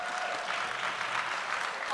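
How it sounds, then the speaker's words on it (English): Faint, distant applause from an audience at a school awards evening, a steady wash of clapping with no voices over it. "Let's give her a round of applause."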